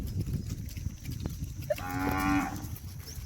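Cattle on a farm by a pond low out a single drawn-out moo in the middle, heard over a rumbling outdoor background of shuffling animals.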